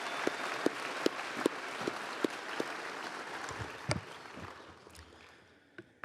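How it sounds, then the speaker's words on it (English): Audience applause at the Western Heritage Awards ceremony, a steady wash of clapping with a few sharp, close claps standing out, tapering off toward the end. "Give him another round of applause."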